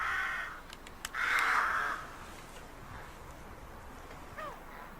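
A crow caws loudly several times outdoors, harsh calls near the start, followed by fainter bird chirps against light background noise.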